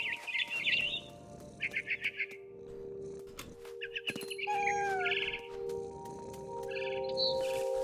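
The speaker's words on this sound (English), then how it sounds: "My cat's freaking out at the bird sounds." Bird chirps and twittering calls sound in repeated bursts from the video game What Remains of Edith Finch, alongside sustained tonal game ambience and occasional sharp clicks, with no talking.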